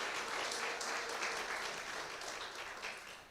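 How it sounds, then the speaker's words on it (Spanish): A church congregation at a Christmas service claps in steady applause for Jesus. The many hands make a dense, even patter that fades slightly toward the end. "Denle un aplauso al Señor Jesús"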